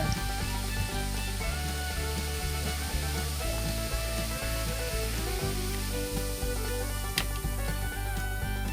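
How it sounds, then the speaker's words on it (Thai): Sugar and soda stirred together to dissolve into syrup give a loud, steady fizzing hiss with faint scraping from the stirring, close and unbroken throughout. "แล้วก็คนคนให้น้ำตาลละลาย"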